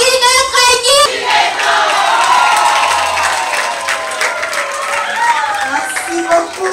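Children clap together at a Day of the African Child gathering in Kinshasa, a steady crowd applause with voices and a loud adult voice over it.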